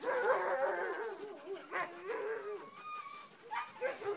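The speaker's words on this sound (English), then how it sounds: "So we just got done with our first dog sled adventure ever." Sled dogs at a dog sledding outing bark, yip and whimper excitedly for several seconds, close by, with a person's voice briefly heard among them.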